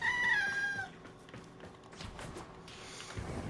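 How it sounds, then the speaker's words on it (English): A pet cat gives one clear, drawn-out meow up close at the start, followed by soft taps and quiet room noise. "My cat wants attention."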